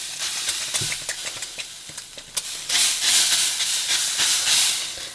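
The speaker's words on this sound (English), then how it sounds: "I've heated up my pan, and I'm just going to put some fry light in there." Frylight cooking spray hisses in a heated frying pan, a steady bright sizzle that swells louder partway through, with a few small clicks and taps near the pan.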